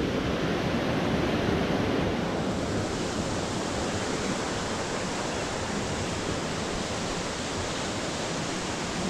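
A waterfall in the Sebes-Körös gorge roars as a dense, steady broadband rush, loud and close, unbroken for the whole stretch, with no voices over it.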